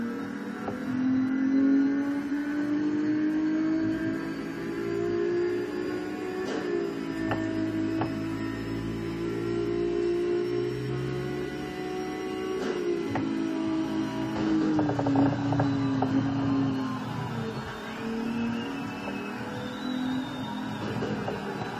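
A Ferrari engine in a racing video game, driven with a wheel, drones steadily and rises and falls in pitch through gear changes and corners over about twenty seconds, loud and continuous.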